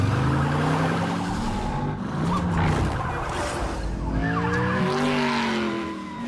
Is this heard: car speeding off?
yes